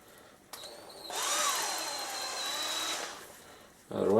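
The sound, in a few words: Milwaukee 12 volt cordless drill drilling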